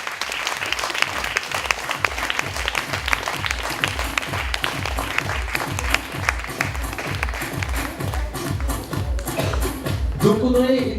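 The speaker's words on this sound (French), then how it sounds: "Sous vos applaudissements." An audience at an evening event gives sustained applause, dense clapping from a crowd that continues steadily and loudly to the end, with a voice briefly speaking as it closes.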